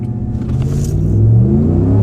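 Pickup truck with a 5.7 Hemi V8 launching from about 2,200 rpm on a 0 to 60 run, heard from inside the cab as a loud, deep engine rumble rising steadily in pitch.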